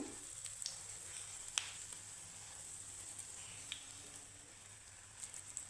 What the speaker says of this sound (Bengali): দেখো এটা কিন্তু লো ফ্লেমে কিন্তু ভাজতে হবে বন্ধুরা অবশ্যই